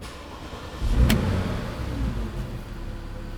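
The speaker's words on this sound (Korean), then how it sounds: "그럼 한번 GTS 시동소리 한번 들어보도록 하겠습니다." A 2015 Porsche Cayenne GTS engine turns over and catches with a sharp burst, then settles into a low, steady idle rumble nearby.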